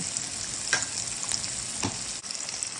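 Egg frying with rice in a pan with green chilli and red pepper, a continuous close sizzle with a few soft scraping stirs, no voices.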